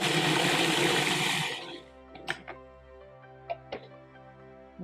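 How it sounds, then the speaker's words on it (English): A blender whirs loudly through oat, walnut, vanilla and cinnamon cookie dough for under two seconds, then cuts out, leaving only a few quiet clicks and knocks. "I'm just gonna blend this until it sticks together."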